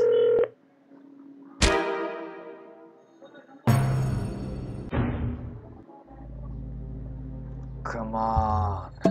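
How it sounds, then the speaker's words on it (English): Cell phone in the video game Stonewall Penitentiary dialing the police: a short run of clear electronic tones and beeps with pauses between them, followed by a low steady hum, close and fairly loud, with no talking. "I found a working cell phone."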